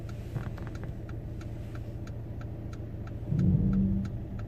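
A car idles with a steady low hum as it is put into reverse for a driving test parking manoeuvre, hazard lights ticking at a regular rhythm, followed by a brief rise in engine note near the end.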